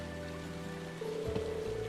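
Steady light rain falls in a scene from the video game Trails of Cold Steel, a soft continuous patter with some tonal game music running under it.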